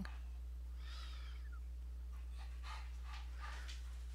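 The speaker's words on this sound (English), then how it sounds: "My dog is thinking that the children are going to give her things, so she's getting noisy" A pet dog gets noisy indoors, giving a couple of faint, soft whining or whimpering calls against a steady low electrical hum, with no talking.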